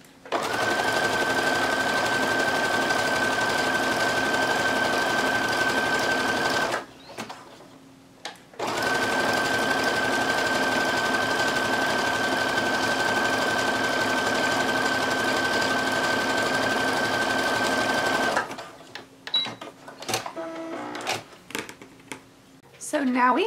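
A sewing machine stitches picot elastic onto lingerie fabric in two long, loud, steady runs with a whining hum, a brief pause between them, then quieter handling clicks and rustles at the end.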